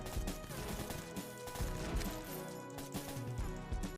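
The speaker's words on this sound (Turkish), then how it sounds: "Keskin nişancı tüfeği aldım. Bir tanesini vurdum." Sniper rifle gunfire in the video game Aptos Arena, a quick burst of sharp shots and impacts layered over busy game sounds, moderately quiet throughout.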